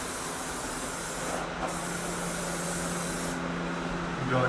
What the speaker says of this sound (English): You want to spray the first coat light, the second coat medium, and then the last coat, you want to give it a nice wet coat